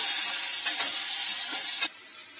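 Raw potato and onion fry in a pan for kanda poha, a close, bright sizzle with a few stirring scrapes before it suddenly drops to a quieter crackle.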